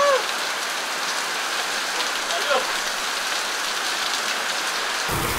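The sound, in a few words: rain falling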